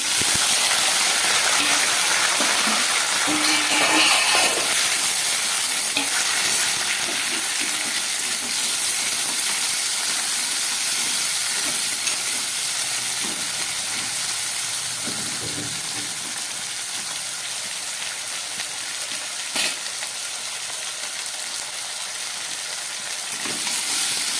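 Potatoes frying in hot oil with bay leaf and nigella seeds in a home kitchen, a steady, fairly loud sizzling hiss that carries on without a break and fades slightly over time.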